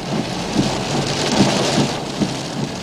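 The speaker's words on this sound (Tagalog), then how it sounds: "Ganito ang lakas ng ulan papuntang Kawit, Cavite dakong alauna ng hapon kanina." Heavy rain pours onto the road toward Kawit, Cavite, as a typhoon approaches, a dense continuous hiss with occasional louder splashes and low rumbles, loud and close, no voices.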